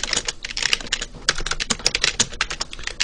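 Rapid, close-up clatter of a computer keyboard entering router configuration commands for OSPF stub areas, in dense bursts of keystrokes with brief pauses and no talking.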